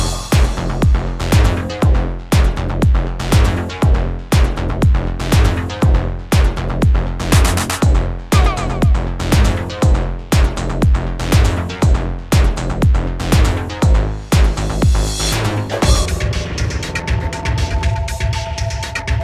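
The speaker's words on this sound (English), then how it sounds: "Creating a call and response pattern between different bass sounds can add variation to your bass line." Two EBM industrial synth bass sounds trade call-and-response phrases in a driving, steady pulse that stays loud and busy before a sustained tone takes over near the end, with no speech.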